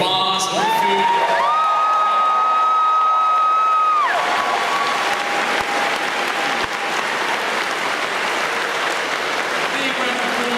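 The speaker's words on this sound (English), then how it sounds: "if we could give a really big round of applause to all the Warwick staff" Big, sustained audience applause with scattered whoops fills a large hall at an anime convention's Sunday night show, continuous and loud throughout; a few sustained electronic tones sound briefly at the start before the clapping takes over.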